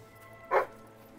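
A single short dog bark from the video game Fable III, one brief yelp standing alone over a faint steady game background.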